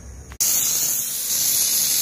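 A pressure cooker with dal inside lets out a sudden loud, steady hiss of steam that cuts in sharply after a brief quieter moment and keeps blowing without a break.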